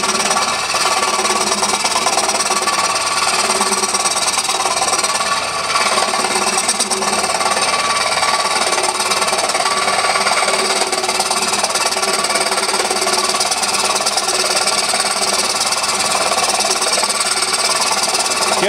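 A woodturning lathe spins at roughly 500-600 RPM while a short stack replacement is hollowed, giving a steady, loud, broadband whirring rasp with constant scraping texture that runs unbroken throughout, with no voices.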